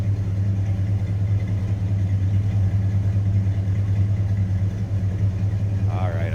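A 1956 Chevrolet Bel Air engine idles with a steady low, even rumble close by, while a voice is faintly heard over it near the end.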